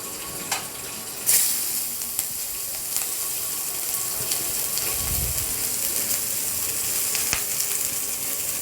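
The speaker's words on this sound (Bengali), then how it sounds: "গরম তেলটার মধ্যে আমি পেঁয়াজ আর লঙ্কাগুলো দিয়ে দিচ্ছি" Onions and whole chillies fry in hot mustard oil in a kadai, giving a steady, even sizzle with a few sharp clicks and one brief low bubble midway.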